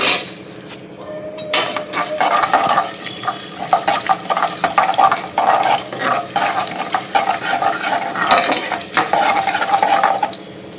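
Chana dal, urad dal and cumin frying in a pan, with a steady sizzle under repeated scraping and stirring of a utensil against the pan, close and fairly loud, with no voice.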